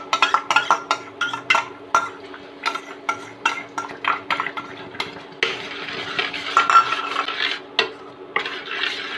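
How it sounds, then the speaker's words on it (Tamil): A spoon scrapes and clinks repeatedly against a pan while stirring mango halwa, in a steady rhythm, close up, with a faint sizzle beneath. "நல்லா கைவிடாமல் மிக்ஸ் பண்ணிட்டே இருங்க"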